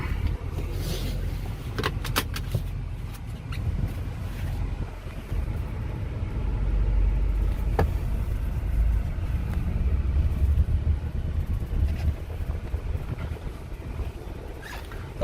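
A 2006 Toyota Tundra SR5 pickup with a 4.7L V8 is driven, giving a steady low engine and road rumble from inside the cab that swells midway, with a few faint clicks and rattles and no talking.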